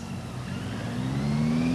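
A motorcycle engine running during a riding exam exercise, heard as a steady mid-pitched drone that rises gradually in pitch as the bike accelerates, fairly close, with no voices.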